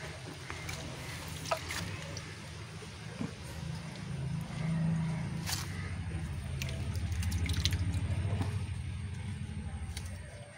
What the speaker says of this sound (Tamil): அதுக்கப்புறம் தண்ணி ஃபில் ஆகிட்டுருக்கு.